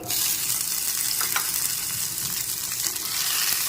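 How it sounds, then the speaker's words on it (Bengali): Tomato pieces fry in a hot pan with a loud, steady sizzle and a few brief scraping stirs. No one speaks. "টমেটোর টুকরোগুলো দিয়ে দিচ্ছি"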